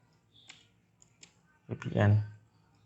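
A few light computer mouse clicks while downloading OpenVPN on a Windows PC, soft and close, separated by pauses, followed by someone speaking.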